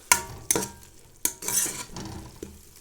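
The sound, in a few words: garlic simmering and sizzling in a pan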